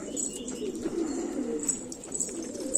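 A pigeon coos softly, with low repeated coo notes close by and faint chirps scattered above them.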